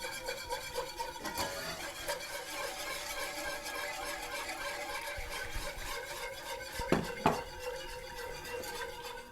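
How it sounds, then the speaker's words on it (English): A spoon stirs milk into gravy in a pan while making country fried steak, giving steady scraping and clinking against the metal with a couple of sharper knocks near the end. No one speaks. "you just want to stir in that milk, stirring constantly as you pour"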